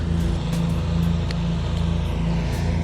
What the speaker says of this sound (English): I apologize for the lawnmower sounds.